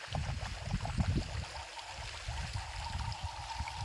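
A little water is poured into tomatoes cooking in a pan, giving a soft, close gurgling splash with faint low knocks, quiet and with no voices.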